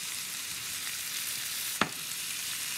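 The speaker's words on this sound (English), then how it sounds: "Very pretty, look how they fry." Vegetables fry in grapeseed oil after sugar and molasses are added, giving a steady close sizzle throughout with one sharp click partway through.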